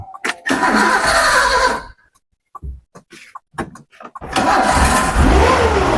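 A car engine cranks and catches, running loudly for a couple of seconds, then cuts out. After a few faint knocks it starts again and settles into a steady, close idle.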